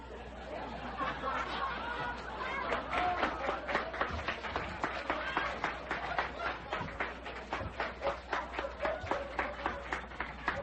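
Studio audience on an old-time radio show clapping and chattering, a rhythmic burst of applause mixed with murmuring and light laughter, steady and moderately loud through the whole stretch.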